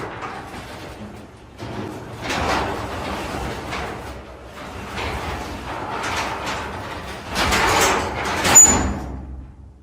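A single-panel garage door rolls shut, a long rumbling slide with rattles and clanks that builds toward a louder thud near the end.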